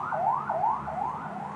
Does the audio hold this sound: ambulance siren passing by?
yes